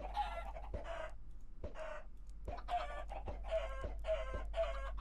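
A Minecraft chicken clucks repeatedly in short, evenly spaced bursts, clear and close, over a steady low background hum with no talk.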